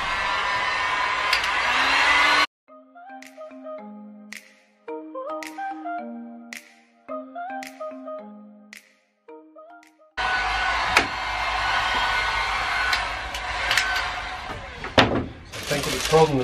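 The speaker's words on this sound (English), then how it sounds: "I'll grab a heat gun and" Heat gun blowing on van window tint on a Toyota Hiace campervan, a loud steady hiss that cuts off, gives way to a stretch of musical tones, then returns for several more seconds, close.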